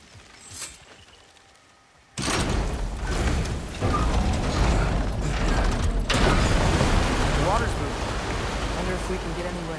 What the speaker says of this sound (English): Surely that's unjammed the wheel.